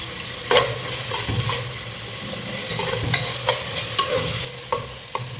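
Cinnamon, cloves and cardamom fry in hot oil in a pan, giving a steady close sizzle broken by several sharp clicks and scrapes from stirring.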